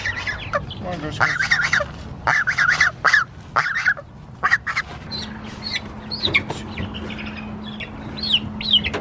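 A goose among a flock of poultry, including chickens and turkeys, makes loud close honks and gobble-like calls in repeated bursts, with clucking around it.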